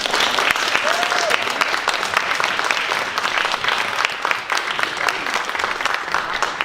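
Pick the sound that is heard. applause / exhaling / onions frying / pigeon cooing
applause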